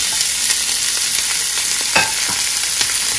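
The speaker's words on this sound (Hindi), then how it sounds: "ऑयल गरम किया है, इसमें मैं अपने ये वेजिटेबल्स और ऑनियन डालूंगी" Vegetables and onion frying in hot oil in a pan give a steady, loud sizzle, with a few sharper clatters of stirring. No one speaks.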